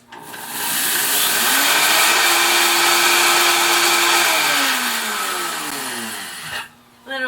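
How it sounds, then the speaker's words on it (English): A Vitamix blender grinding flax seeds, a loud steady whirring roar that spins up quickly, holds for several seconds with a sustained motor whine, then winds down and stops with a brief rattle at the end. "So let's put that in the Vitamix."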